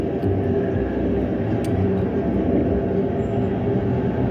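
A train rolling past close by, a loud continuous low rumble and rattle of wheels on track that holds steady throughout, with a brief faint squeal.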